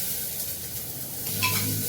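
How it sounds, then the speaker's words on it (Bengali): Meat fries gently in a pan, a faint steady sizzle with a soft clink or scrape near the end, heard close and quiet with no talk. "মাংসটাকে হালকা হালকা করে ভেজে নেবেন"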